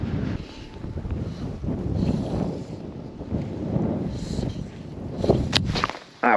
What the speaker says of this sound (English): The wind is really strong on my right hand shoulder.